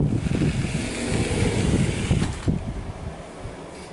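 A large, loud air conditioning unit runs in a room, giving a steady roaring, rushing drone with a rumbling low end that holds throughout, close and unbroken.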